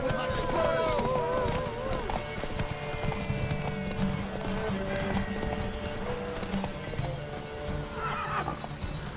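A horse galloping in the video game The Witcher III, with rhythmic clip-clop hoofbeats and a whinny near the start, running steadily under talk and game ambience.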